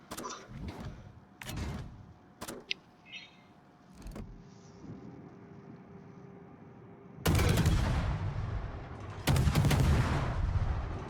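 Gearing destroyer guns in World of Warships fire sharp, loud volleys. Several separate salvos come early, then two heavier, sustained bursts of gunfire follow later, with a steady engine hum running underneath.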